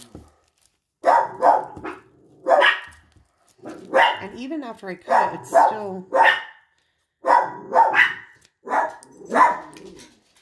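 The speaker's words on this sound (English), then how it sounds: "Probably will never be a reading where my dogs don't bark." Pet dogs bark in short bursts in a quiet room while a person talks steadily over them, the barks mixed in and partly masked by the voice.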